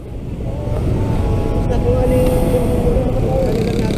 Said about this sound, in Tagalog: Lima kaming motor.